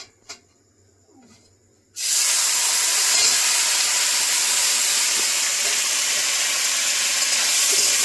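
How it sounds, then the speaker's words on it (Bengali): Drained sago dropped into hot ghee in a pan for payesh; after a short quiet stretch, a sudden loud, steady sizzling hiss bursts out and continues unbroken to the end. "এবার এই ঘিয়ের মধ্যে আমি ওই সাবুটা ভেজে নেব।"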